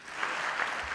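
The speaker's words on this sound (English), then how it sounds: "Can we just give our moderator and our panelists another round of applause?" Audience at a global policy forum on financial inclusion applauds the moderator and panelists, a steady, even wash of clapping from a large seated crowd lasting the whole second.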